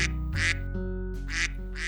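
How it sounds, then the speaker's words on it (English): A duck quacks three times in short, nasal bursts, loud and close, over a steady tonal background. "This is a duck."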